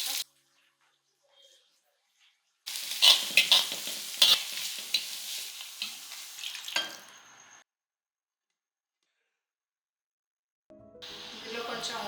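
Mustard seeds, cumin, fenugreek, curry leaves, asafoetida, dried red chillies and chopped green chillies sizzle and crackle in hot oil for tempering a taro leaf dal. The loud frying lasts several seconds amid silence, and a voice talks near the end.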